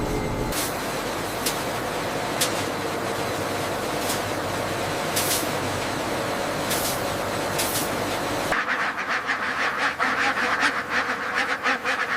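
Laying ducks crowd a duck farm with a dense, continuous chorus of quacking from many birds, loud and close, with sharper individual calls punctuating the din throughout.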